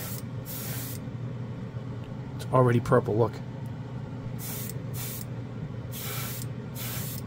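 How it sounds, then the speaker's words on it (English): A can of black Tamiya spray paint hisses in several short bursts, some brief and one longer, fairly close, with a person speaking briefly partway through. "Black Tamiya in the spray can."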